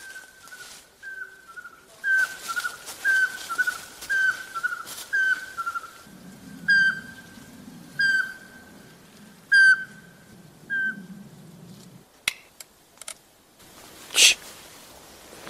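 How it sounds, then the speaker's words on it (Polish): At night, a Eurasian pygmy owl repeats a series of short, evenly spaced piping whistles, moderately near but faint, with rustling and a brief murmur of low noise partway through. "Śpiewa tam suweczkę, nie wiem czy słyszycie"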